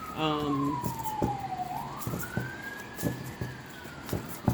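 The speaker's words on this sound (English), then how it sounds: "I'm hearing that siren in the background." A wailing siren rises and falls in the background, with a steady faint tone beneath, while sharp clicks and knocks punctuate it nearby.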